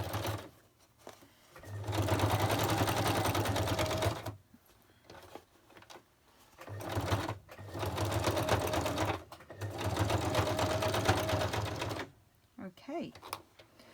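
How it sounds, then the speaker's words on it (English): A sewing machine stitches a lace pocket onto a fabric journal cover in several close, loud bursts of rapid needle chatter, each run a few seconds long, separated by short pauses and brief speech. "So I've stitched in my lace pocket."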